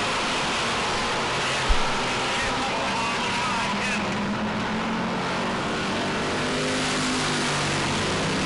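Race cars circle a New England oval track in close side-by-side racing, a steady, distant engine drone with a brief thump near the start and faint voices underneath.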